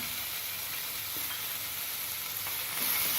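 Three tomatoes sautéing in a hot pan while paneer butter masala is being made, giving a steady, close frying sizzle with faint stirring scrapes throughout and no voices.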